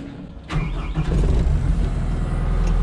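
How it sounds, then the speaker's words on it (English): Skid loader engine starting up: a short cranking burst that catches and settles into a steady, rumbling diesel-like idle, close by and loud, with no talking. "I'm gonna bring the skid loader in here and we'll work at cleaning these all out."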